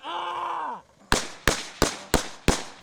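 A brief tonal groan gives way to five sharp, loud blasts at steady intervals, each with a short ringing tail: explosions and gunshots during military combat training on casualty evacuation.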